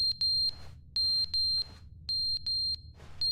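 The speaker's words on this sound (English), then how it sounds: "What is the beeping? I'm not particularly fond of that noise." An electronic alarm in The Stanley Parable Ultra Deluxe beeps in repeated bursts of three sharp, high tones separated by short pauses, loud and clear with no talking.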